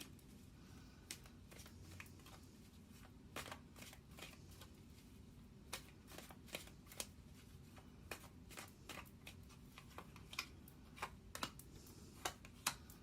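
Tarot cards shuffled and drawn during a Libra reading, with a steady run of soft, papery riffles and snaps spread across the span, quiet and close.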